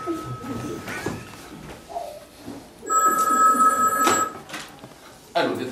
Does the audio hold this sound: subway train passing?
no